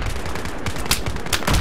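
Dense, continuous gunfire from Battlefield 3 team deathmatch, rapid overlapping shots with a few sharper cracks, loud and close throughout with no talking.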